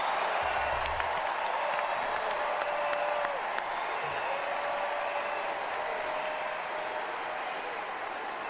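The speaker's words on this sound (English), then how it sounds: "And we're going to have to hear 5 minutes of applause now." Sustained crowd applause fills a convention hall, a steady dense wash of clapping and cheering at full volume throughout, with a few brief tonal calls rising above the noise.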